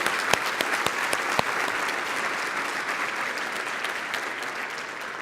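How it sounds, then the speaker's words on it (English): A large summit audience in a conference room breaks into a round of applause, loud sharp claps at first settling into a steady, even wash of clapping that carries on alone. "could you please join me just in a round of applause for the many, many people that made this happen?"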